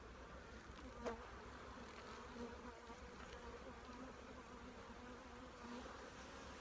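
A steady, faint hum of many bees buzzing around the frames of a hive from a caught swarm, a continuous drone with a few brief louder passes.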